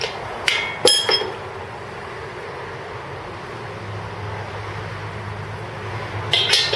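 A few sharp metallic hammer strikes on a 1971 Camaro SS pinion near the start and again at the end, with a steady low rumble in between.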